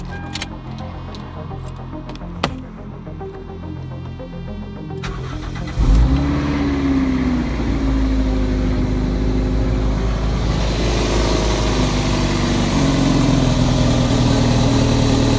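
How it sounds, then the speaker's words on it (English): A car engine with a rerouted cold air intake cranks and catches partway through, then settles into a loud, deep, throaty idle with occasional revs from an aggressive custom-built exhaust. "this is going to be my first start after building the exhaust and rerouting my cold air intake"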